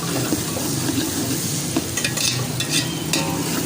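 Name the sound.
onions frying until golden brown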